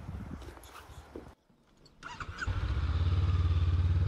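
A motorbike starts up and idles loudly and close by with a steady throbbing engine note, following some rustling and shuffling outdoors in an orchard.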